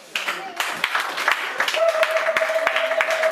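A church congregation claps and cheers during a worship service, a dense wash of applause and voices with a sustained sung or shouted tone running beneath, fairly close and steady.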